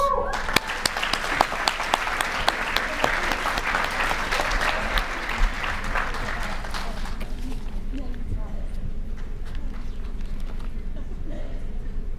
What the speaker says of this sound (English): let's give another round of applause for the class of 2020